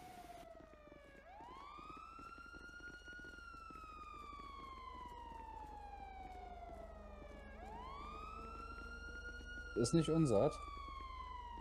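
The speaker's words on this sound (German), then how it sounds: "Oh, jetzt möchte ich wissen, welche Sirene jetzt an ist." Wailing police car siren in the video game GTA V, rising and falling in long sweeps throughout, loud and close, with a brief burst of speech near the end.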